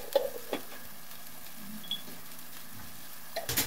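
Onions, broth, pepper, turmeric and cinnamon being stirred in a pot for an Algerian white dolma sauce, with a faint simmering sizzle and a few soft utensil clinks and scrapes, quiet and close.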